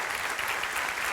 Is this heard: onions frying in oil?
no